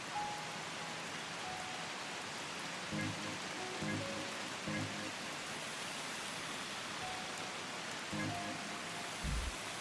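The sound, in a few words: rain in the video game Old Skies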